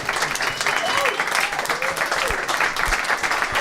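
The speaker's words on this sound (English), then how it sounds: "Wow, you guys are great clappers." An audience at a live comedy podcast taping claps steadily throughout, a dense, even wash of applause, with voices mixed in.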